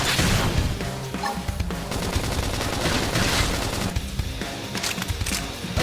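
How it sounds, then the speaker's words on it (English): A flame grenade detonates in Xenoblade Chronicles X amid dense, continuous combat noise, with loud bursts and crashes layered throughout a busy battle mix. "Flame grenade."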